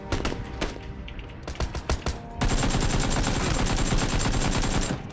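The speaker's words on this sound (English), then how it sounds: "I'm being shot from inside the thing" Gunfire aimed at the player in PUBG: scattered loud shots at first, then a dense sustained burst of rapid automatic fire that keeps going to the end, with no talk.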